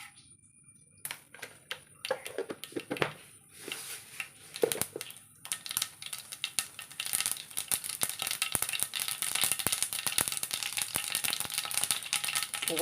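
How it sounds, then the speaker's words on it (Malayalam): Mustard seeds spluttering in hot coconut oil while tempering a tomato and cucumber curry, a dense crackle of sharp pops that starts sparse and builds into a continuous, loud sizzling rattle close by. "കുറച്ച് വെളിച്ചെണ്ണ ഒഴിച്ച് കൊടുക്കാം. കുറച്ച് കടുക് ഇട്ട് കൊടുക്കാം."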